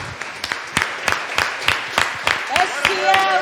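A church congregation claps in steady rhythm, about three claps a second, close and even. A singing voice joins faintly near the end.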